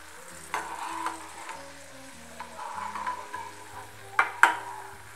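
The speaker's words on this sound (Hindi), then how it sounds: "बिल्कुल लो गैस पे हमने इसको बहुत हल्का सा फ्राई करना है।" Cashews frying in ghee on a very low flame: a soft, steady sizzle with a few light stirring clicks and two sharper clinks near the end, under faint background music.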